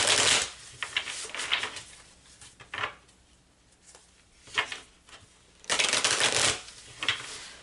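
Tarot cards being shuffled close up, in several crisp riffling bursts separated by quieter pauses, the last burst longest and fullest, with no talking.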